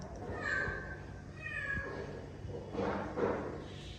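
A cat meows several times at close range, two drawn-out cries followed by a pair of shorter, louder calls, with faint thumps and a low household background.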